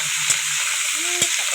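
Squid frying in a pan with onion, garlic and ginger makes a close, steady sizzle, with two brief knocks of a utensil against the pan.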